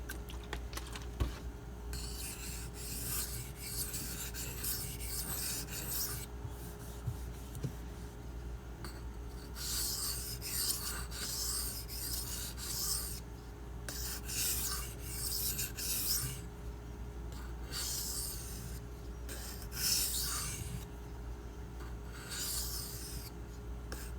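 A Benchmade 9400 knife blade is drawn across a Shapton Glass sharpening stone in light burr-removal passes. Quiet, close, rhythmic scraping strokes come in short bursts separated by brief pauses.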